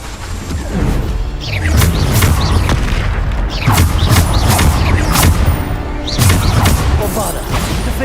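Repeated spell explosions from the Bombarda curse in the Hogwarts Legacy video game, heavy booming blasts landing every second or two amid continuous combat noise, with brief in-game voices calling out between impacts.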